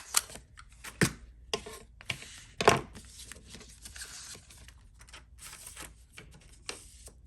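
A stapler punches through paper and vellum for a flat flippy pocket mini album, giving a couple of sharp, close clacks amid quieter rustling and handling.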